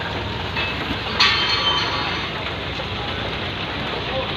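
Rain falls steadily in the Philippines, producing a dense, constant hiss of drops on surfaces close by, with a brief louder patter in the middle.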